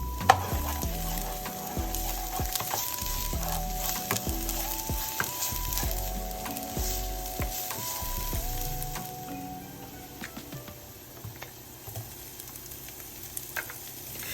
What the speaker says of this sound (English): To the clean pan, I'm adding a little olive oil. I'm going to saute just a little bit of the onion